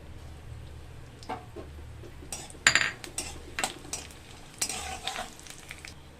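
Dried chillies fry in a pan with a steady low sizzle, while a utensil stirs and scrapes against the metal in scattered clinks and scrapes. No one speaks.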